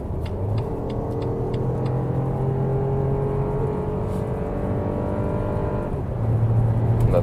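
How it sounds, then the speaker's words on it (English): A BMW X1 25e xDrive PHEV plug-in hybrid accelerates hard from 100 km/h on the road, its engine note climbing steadily in a smooth, continuous drone over loud wind and tyre rumble, with no one talking. "we can do one more acceleration, how that one behaves from 100 kilometers an hour"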